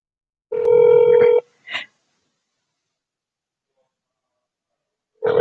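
Telephone keypad tones beep in a quick run during real estate cold calls, followed by a short breathy sound, then silence before another tone starts at the end.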